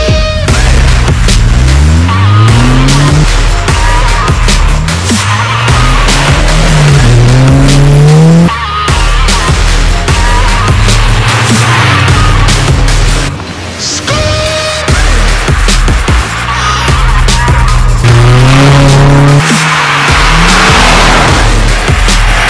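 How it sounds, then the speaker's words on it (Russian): A Subaru Impreza WRX STI, Toyota Celica GT-Four and Mitsubishi Lancer Evo on the same tyres driving on ice: loud rising and falling engine revs with repeated gear changes and tyre squeal throughout, close and continuous. "Сравним все-таки, какая машина на льду может быть лучше."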